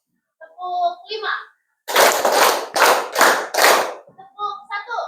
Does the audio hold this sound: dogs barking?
no